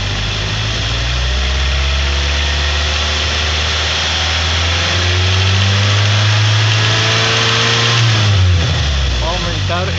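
A car engine revs up from idle, climbing loudly in pitch and holding high before dropping back, with rumbling low tones throughout; spoken during a basic automotive electronic engine management lesson.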